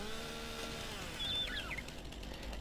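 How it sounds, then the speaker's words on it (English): Stump grinder clearing stumps in Farming Simulator 19, a steady whining mechanical drone with tonal engine hum, fairly faint and continuous, no voices. "we are going to take our pretty little stump grinder"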